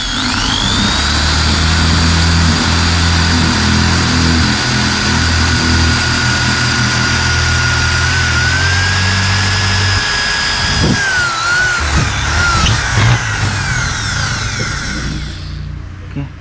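A power drill whines steadily for about ten seconds, boring a hole to route indicator wiring while fitting eagle-eye LED indicators to a motorcycle, then slows and stops with a few clicks and handling noises.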